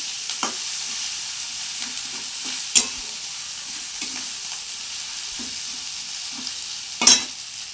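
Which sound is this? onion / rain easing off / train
onion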